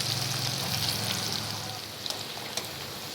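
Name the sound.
frying chopped chilli and garlic in oil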